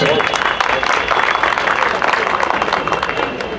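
Loud applause from a crowd at a Republic Day gathering of a bar association in Delhi, dense clapping that fills the hall and holds steady before easing slightly at the end.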